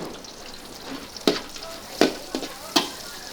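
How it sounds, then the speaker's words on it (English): Garlic, ginger and Kampot pepper fry in hot oil in a wok during a Cambodian crab stir-fry. The steady close sizzle is broken by four sharp clacks of a utensil stirring against the pan. "Add plenty of chopped garlic and ginger and fry it a little"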